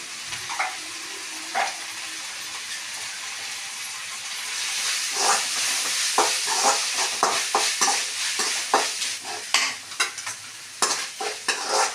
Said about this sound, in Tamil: இப்போ வெங்காயம் லைட்டாக வதங்கிடுச்சு, நம்ம இஞ்சி பூண்டு போட்டுக்கலாம்.